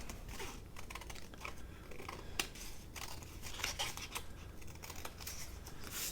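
Scissors trim handmade tag toppers with soft, quiet snipping and paper rustling, close and continuous with no speech.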